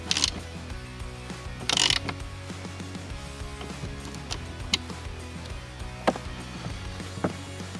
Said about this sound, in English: then fully tighten all the screws.